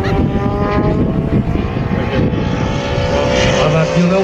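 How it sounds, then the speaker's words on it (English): A model airplane motor drones continuously at close range, a steady high-pitched buzz, loud and even with a slight wavering pitch, no voices over it. "Vinny, you can sell CDs of that motor sound"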